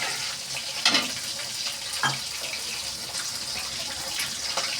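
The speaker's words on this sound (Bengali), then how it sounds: "সামান্য একটু জল দেবো, নাহলে মশলাটা তো পুড়ে যাবে। দিয়ে এখন মশলাটাকে আমি কষিয়ে নেব" Spice paste being fried in a pan with a splash of water for a shrimp and pumpkin dish, a steady wet sizzle broken by a couple of sharp stirring scrapes, no voices.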